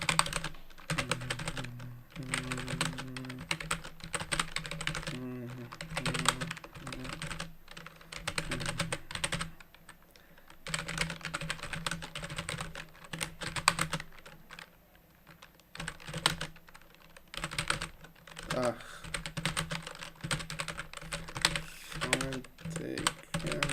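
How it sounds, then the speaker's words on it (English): Steady clatter of typing on an old computer keyboard, with fast bursts of keystrokes and short pauses, heard up close and without speech. "plus my keyboard is an old one, so it's not that good"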